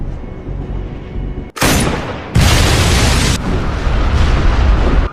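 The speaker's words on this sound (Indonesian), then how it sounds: "Ketika peluru itu ditembakkan, gedung di depan mereka akan langsung meledak." A building explodes in an action film after a single gunshot: a sudden, loud broadband blast, a brief dip, then a second massive roaring explosion that rumbles on heavily for several seconds.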